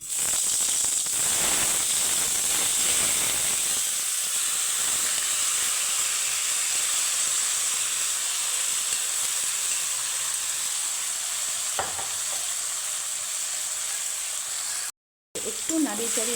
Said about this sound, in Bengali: এখন আমি দিয়ে দিব মেখে রাখা ফুলকপি